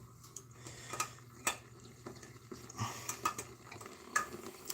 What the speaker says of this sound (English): Add some diced potatoes.